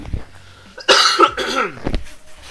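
A single short cough up close, a quick raspy burst followed by a faint throaty trailing sound, then quiet.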